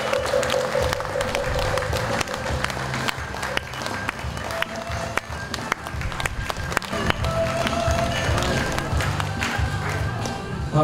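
An audience at a Korean Buddhist Taego Order ceremony marking the change of its chief administrator, giving sustained, dense applause that carries on loud and steady for several seconds, with a few voices under it.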